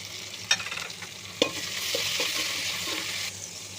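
Onions and tomatoes sautéing with salt in a pan for vegetable biryani give a steady close sizzle, broken by a couple of sharp spoon knocks and light scraping stirs, with no talk.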